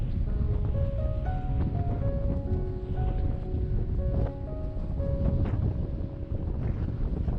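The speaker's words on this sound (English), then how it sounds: "it's very windy here on the Baltic Sea" Strong wind sweeps the Baltic Sea coast on the island of Bornholm, a loud, steady roar with gusty swells that fills the whole stretch without any voices.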